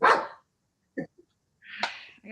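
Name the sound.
dog barking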